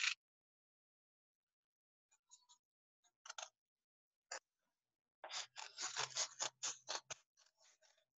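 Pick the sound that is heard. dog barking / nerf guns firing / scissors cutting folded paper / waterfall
scissors cutting folded paper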